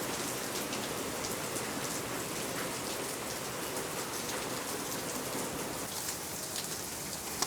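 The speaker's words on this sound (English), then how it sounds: "we have a squall coming through with some pretty decent rain." A hurricane rain squall on Padre Island during Hanna's July 2020 landfall: a constant, dense downpour hissing nearby at an even level, with no voices heard.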